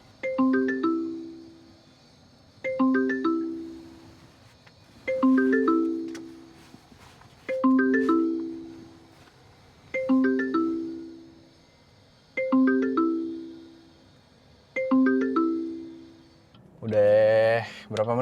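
A phone ringtone plays a repeating chiming melody, seven evenly spaced bursts about every two and a half seconds, clear and alone, ending in a short warbling tone.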